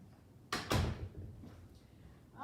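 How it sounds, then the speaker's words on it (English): A door in a home kitchen swings shut with a solid thump and brief rattle, loud and close in an otherwise quiet room, followed by a faint settling sound. "So I'm going to shut this door so you can hear me."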